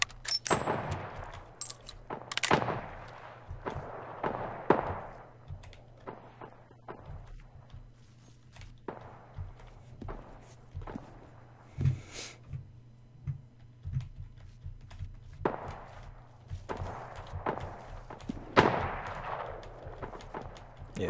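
Wild West MMORPG New Frontier firefight with explosive ammo: sharp, loud gunshots crack irregularly, some in quick pairs, with lighter clanks and clip-clop between them over a low steady hum.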